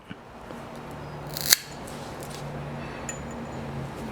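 A single sharp snip of scissors trimming a cable during a KS LEV dropper seatpost service, one crisp close cut amid quiet room noise.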